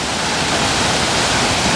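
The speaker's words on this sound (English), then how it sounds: "There's the heavy flow from all the water" Heavy water rushing in a dense, steady roar, loud and close, with no letup and no voices.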